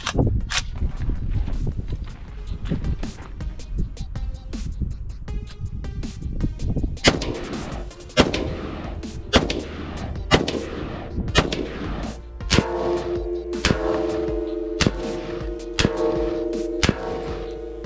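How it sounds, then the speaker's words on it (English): Repeated 5.56 rifle shots fired at bulletproof glass outdoors, loud sharp cracks at irregular intervals with ringing echoes between them, more rapid toward the end. "let's go ahead and pop off a round, see what happens"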